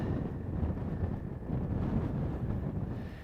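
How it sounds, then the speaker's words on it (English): Wind gusts across a Scottish links golf course, a steady low rumbling buffet against the microphone that swells and eases, with no talk. "Stay off it, wind."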